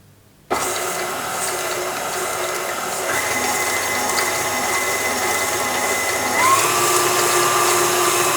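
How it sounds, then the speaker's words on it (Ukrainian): An electric mixer beating butter with sugar at medium-high speed for a cake: a sudden start into a steady, loud whirring drone that keeps running, its motor pitch shifting slightly a couple of times as it churns. "збиваємо масло з цукром на середньо-високій швидкості до посвітлішення та збільшення в об'ємі"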